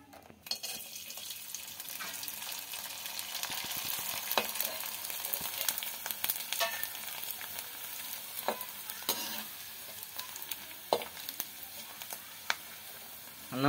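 Rice murukulu deep-frying in hot oil give a steady, close, loud sizzle and bubbling throughout, with occasional sharp crackles and pops; no one speaks.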